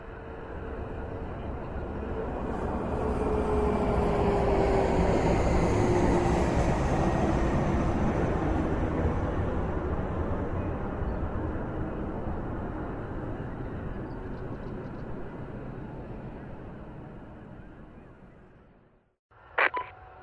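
Aircraft taking off in the BattleSuit Runner Fitness video game: a broad roaring engine wash swells over several seconds, holds steady, then fades away before a brief sharp sound at the very end.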